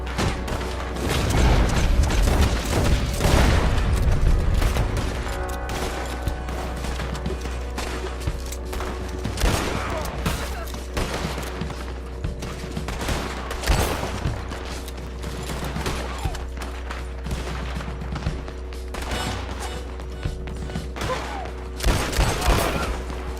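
Gunmen fire in a Red Dead Redemption 2 shootout: dense, continuous volleys of gunshots with sharp cracks and booms, loudest early on, then recurring bursts over a steady rumbling backdrop.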